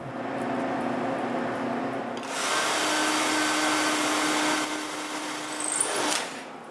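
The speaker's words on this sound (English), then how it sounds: "I find the center of each drawer and drill a hole for the screw" A power drill bores a hole through a wooden drawer front for a pull screw, a steady whirring hum that rises in strength midway, then cuts off with a brief squeal at the end.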